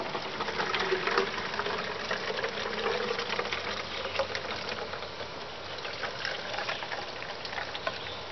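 Collected rainwater, murky with debris, is poured into a water filter, a steady, close, continuous splashing and trickling with no talking.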